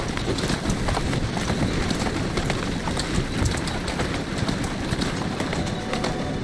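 Horse hooves gallop over cobbled streets in Assassin's Creed Syndicate, a rapid, dense clatter of clip-clop beats that stays loud and constant throughout, with a rumbling wheel-like roll beneath and no clear talk.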